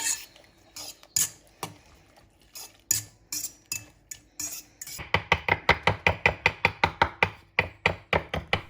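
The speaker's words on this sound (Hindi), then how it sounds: "तमाम कटी हुई सब्जियों को ऐसे शामिल कर लीजिए और इसे फोक की मदद से ब्लेंड कर लीजिए।" A fork mixing chopped vegetables into raita in a bowl, first sparse clinks and taps, then a fast regular run of tapping strokes, close and fairly quiet, no talking.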